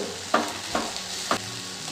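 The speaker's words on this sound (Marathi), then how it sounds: "थोडं ओलं खोबरं टाकते चवीनुसार मीठ आता हे छान आपण मिक्स करून घेऊ" Grated potato, fresh coconut and salt being stirred in a frying pan, a soft steady sizzle with three distinct spatula scrapes against the pan.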